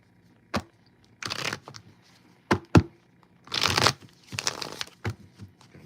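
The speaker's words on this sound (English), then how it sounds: "Give them a shuffle." Tarot cards being shuffled by hand: several short papery bursts of riffling and crinkling with brief snaps between them, close and fairly quiet.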